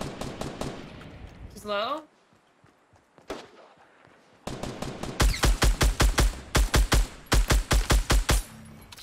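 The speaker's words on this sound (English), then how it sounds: "I'm just gonna shoot her in the zone." Gunfire in the video game Fortnite: after a voice and a short lull, repeated loud, close shots ring out in rapid rhythmic bursts, with brief speech mixed in.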